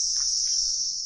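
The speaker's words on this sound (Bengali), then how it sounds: "আর পুরো ঝিঝির ডাকের মধ্যে দিয়ে হেঁটে হেঁটে যাচ্ছে।" Steady, dense insect trilling of crickets fills the space continuously, loud and close, with no voices, on a quiet morning in Jhandi, North Bengal.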